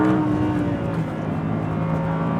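Audi R8 V10 supercar engine revving hard on a race track, a loud continuous high-pitched wail with steady harmonic tones that climb and hold throughout, close to the listener with no talk.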